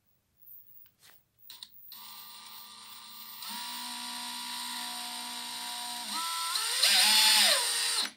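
A cordless drill drives very short, extremely fine screws into a wooden frame with no pilot hole: a few handling clicks, then a steady whining motor that rises in pitch as the screw goes in and stops abruptly, close, no talk.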